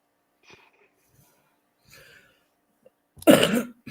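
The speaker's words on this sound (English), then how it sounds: "Sorry about the coughing" A few faint breaths and a small throat noise lead into one loud, harsh cough at the end.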